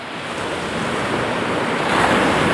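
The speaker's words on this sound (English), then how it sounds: "See some real nice waves breaking beside me." Ocean waves break and wash along St Cyrus Beach at sunrise in a steady, loud roar of surf with wind rumble against the microphone and no voices.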